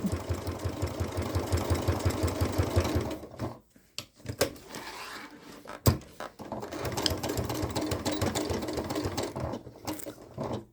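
A sewing machine stitches Velcro onto a fabric bucket caddy in rapid, steady bursts, pausing briefly near the middle with a few clicks and a sharp knock before running again close and clear.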